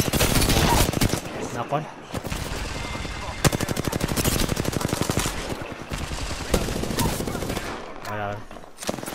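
Rapid automatic gunfire in a shooter video game, loud bursts of rattling shots with brief pauses between volleys, near and dominant throughout.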